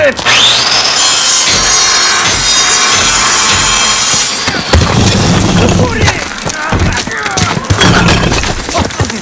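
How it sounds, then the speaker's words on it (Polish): A saw cuts through rubble in the Call of Duty: Modern Warfare video game, loud rasping strokes amid heavy crashing debris and chaotic battle noise throughout. "Przynieście piłę! Ktoś tam jest!"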